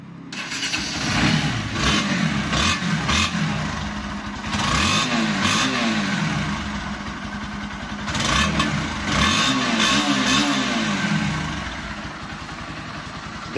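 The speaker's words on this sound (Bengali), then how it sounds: "গাড়িটির ইঞ্জিন সাউন্ডটা আপনাদেরকে একটিবার দেখিয়ে দিই" A blue Bajaj Pulsar NS 160 motorcycle engine starts and runs, idling with several throttle revs rising and falling, loud and close with no talking.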